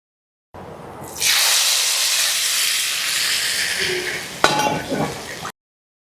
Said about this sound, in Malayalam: ഈ താളിപ്പ് നമുക്ക് തയ്യാറാക്കി വെച്ചിരിക്കുന്ന നമ്മുടെ ഉള്ളി സാമ്പാറിലേക്ക് ഒഴിച്ചു കൊടുക്കാം